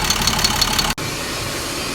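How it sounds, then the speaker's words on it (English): A DT466 diesel engine idles steadily with an even, low mechanical hum and faint rhythmic ticking, briefly cut by a sharp dropout near the midpoint before the same idle continues. "the engine is still purring like a kitten"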